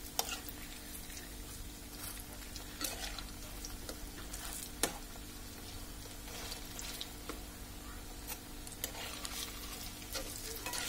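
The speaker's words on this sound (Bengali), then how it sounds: "আমরা এটাকে মিডিয়াম আঁচে ভেজে নেব, তারপর উল্টিয়ে দিব" Lentil fritters (piyaju) frying in oil over medium heat, a steady close sizzle with occasional sharp crackles and light taps as the fritters are turned.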